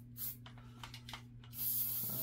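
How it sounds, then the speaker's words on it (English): Hornady One Shot aerosol sprayed inside an AR-15 rifle receiver during cleaning: a few short hissing bursts, then a longer steady spray at the end, close and clear over a low background hum. "I'm a fan of Hornady one-shot. Come in and spray out the inside"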